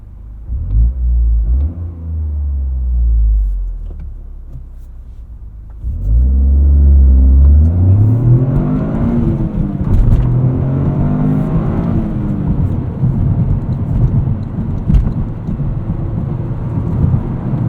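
A 2023 Toyota GR Corolla engine pulls hard under acceleration, a deep loud rumble that drops briefly at a gear change, then swells again into a rising, sustained growl, with no voices.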